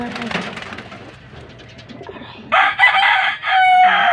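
A loud bird call bursts out close by after quieter rustling and faint talk, sounding like fowl crowing or squawking rather than gentle pigeon coos.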